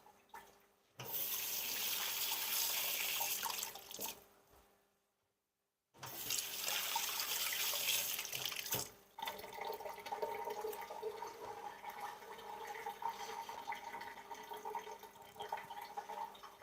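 A kitchen tap runs steadily while onions are washed, a loud broadband rush of water that stops briefly, starts again, then turns softer and splashier as the onions are rinsed under it.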